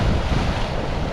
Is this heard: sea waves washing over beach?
yes